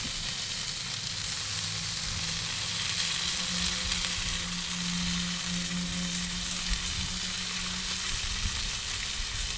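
Sauce mopped onto ribs sizzles steadily on a kamado grill, a close, continuous frying crackle and hiss that holds at an even level throughout with no talking.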